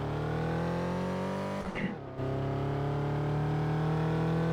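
Car engine in a racing video game, holding a steady high drone that dips briefly in a short gap before resuming at the same pitch.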